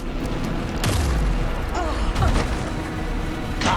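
Gunfire in the video game Alan Wake 2: a few heavy, booming shots burst out at intervals over a steady, noisy game background.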